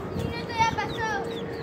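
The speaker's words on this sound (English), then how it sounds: "Guys, you keep hearing this little baby chicken over there?" A baby chicken chirps outdoors, thin high peeping calls repeated in short bursts over a low background rumble and some talk nearby.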